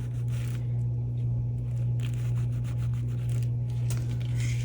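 Steady, close rubbing and scraping as resin is worked off the side of a snakeskin trinket box, continuous over a constant low hum.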